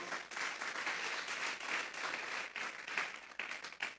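A church congregation applauds, many hands clapping in a fairly quiet, slightly uneven patter that rises and dips over a few seconds with no voices over it.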